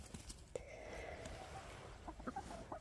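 Chickens clucking softly in the background, scattered short calls over a quiet outdoor hum, fairly distant and faint.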